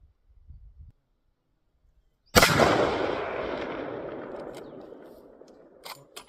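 A single 300 Win Mag rifle shot fired at a long-range target breaks a quiet moment with a loud, sharp crack, then rolls out in a long echo that fades over several seconds.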